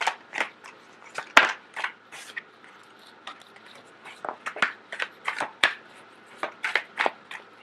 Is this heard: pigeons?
no